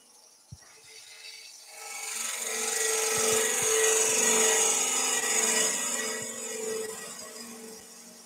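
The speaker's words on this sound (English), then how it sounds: "Listen to the lathe. You hear that vibration coming." A wood lathe turns a tea light candle holder, a faint rasping whir that swells into a steady vibrating hum with scattered ticks and knocks, then eases slightly, close and alone.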